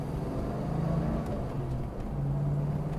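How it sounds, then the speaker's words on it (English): Ford Mustang driving past on a road, a steady low engine hum and tire rumble that holds at moderate level throughout with no talk over it. "Speaking of which, here's a Mustang."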